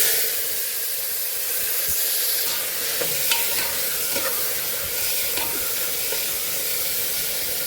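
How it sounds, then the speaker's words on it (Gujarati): Moth beans are tipped straight into hot oil with a generous dose of asafoetida, producing a loud, continuous close sizzle and hiss with faint stirring scrapes and no talking. "અહીંયા 5 ચમચી જેટલી આપણે હિંગ ઉમેરી અને મઠનો સીધો ડાયરેક્ટ આપણે વઘાર કરી દેવાનો છે"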